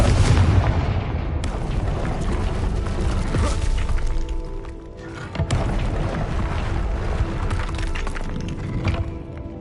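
Confringo fire spell blasting in the game Hogwarts Legacy: loud booming explosions with shattering debris and rumbling crackle, a heavy burst at the start and another midway, continuous and close.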